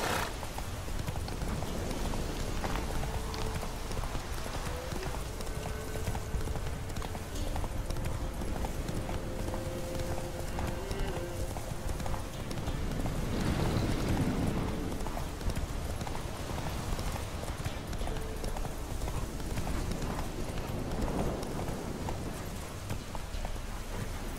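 Hooves of the horse in The Witcher 3 pound in a steady, fast clip-clop as it gallops, moderately loud and continuous, with game ambience underneath.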